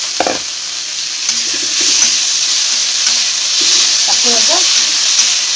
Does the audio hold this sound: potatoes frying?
yes